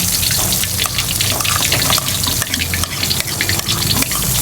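Garlic frying in melted butter in a pan, a steady dense sizzle and crackle running evenly throughout with no talk.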